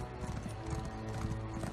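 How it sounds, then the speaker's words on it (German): Steady hoofbeats of a horse ridden at pace in The Elder Scrolls Online, a rhythmic clip-clop running close and even throughout with no talk. "dann reiten wir mal wieder zum Wegschrein"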